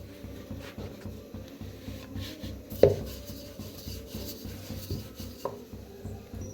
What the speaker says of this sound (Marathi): जसं आपण चपाती लाटतोय ना तसंच लाटून घ्यायचं आहे.